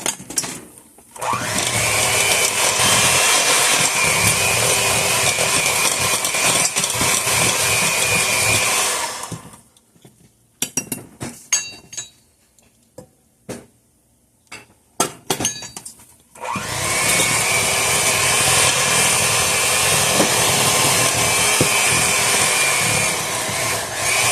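An electric mixer whirs loudly, blending dry and wet ingredients for milk chocolate chunk cookie dough, in two long steady runs separated by a quieter pause with light clinks and taps.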